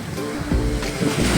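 Sea waves washing onto a white sand beach at Dinadiawan, Aurora, with mountains behind; a steady broadband surf wash with wind rumble, swelling slightly over a short stretch, no voices.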